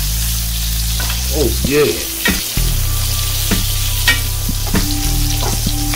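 Pork chops fry loudly in a pan with garlic, thyme and butter, a continuous crackling sizzle close up with a few sharp spatters, and someone briefly speaks over it.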